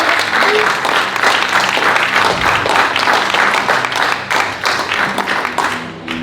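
A church congregation claps and applauds the Lord, a dense sustained roar of many hands that fills the room at full strength before easing slightly near the end.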